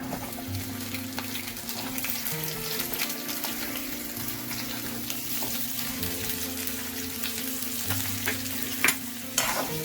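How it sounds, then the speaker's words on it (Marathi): Onions frying in a pan for a Marathi suran and prawn masala curry give a steady close sizzle, with scraping stir strokes and a couple of sharper clinks near the end; no one speaks. "आता ह्याच्यामध्ये आपण कांदा भाजून घेऊया."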